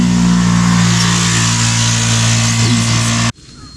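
A motorbike on a street in Japan, by a temple, roars loud and close with a steady revving engine for over three seconds, then cuts off abruptly to quiet ambience.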